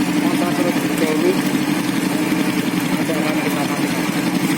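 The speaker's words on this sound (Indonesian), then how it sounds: "Sekarang menghidupkan motor terlebih dahulu." A kick-started motorcycle engine idles in a steady, loud, unbroken rumble that holds an even level throughout.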